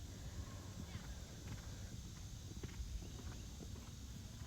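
Horse hooves trotting on arena footing at a novice schooling show, soft rhythmic thuds under steady background hum and low wind-like noise, a rider talking faintly over them.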